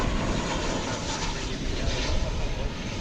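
An Envoy airliner taking off from runway 18 left at DFW airport, its engines a loud, steady broadband roar that holds throughout with faint radio chatter beneath.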